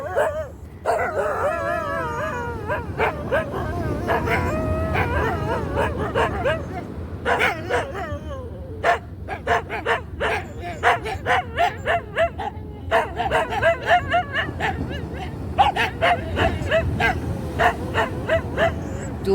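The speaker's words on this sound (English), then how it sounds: "dawn chorus of dogs." Several dogs bark, howl and yip at dawn at Whiskey Bay, Sri Lanka, an overlapping close chorus of loud barks in bursts that keeps going throughout.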